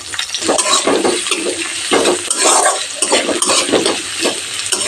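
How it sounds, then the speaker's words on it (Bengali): Chopped onion fries lightly in a hot pan after garlic, a close, loud sizzle broken by repeated scrapes and clinks of a spatula stirring against the metal, with no voices. "একটা বড় সাইজের পেঁয়াজ কুচি অ্যাড করে দিচ্ছি পেঁয়াজটা হালকা ভেজে নেব বেশি ভাজবো না"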